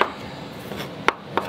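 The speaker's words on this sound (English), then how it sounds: "Just got to chop up the parsley here." A knife chops fresh parsley on a board, a few soft scattered cuts with two sharper taps, quiet and close with no talk.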